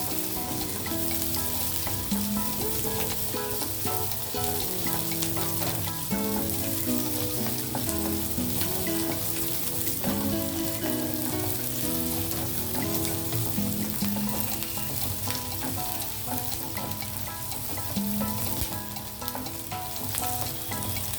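Onions and mixed vegetables, potato among them, frying in a pan: dense, continuous loud sizzling and crackling that holds steady throughout, with no voices.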